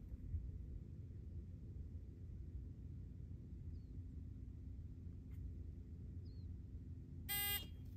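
A shot timer at a shooting range gives one short, sharp electronic beep near the end, loud and high against a quiet, low background rumble.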